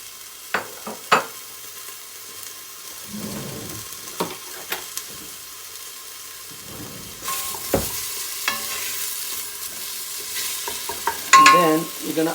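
Onion frying in vegetable oil in a pan for a bean dish, a low sizzle broken by scattered clicks and scrapes of stirring, growing busier and louder toward the end.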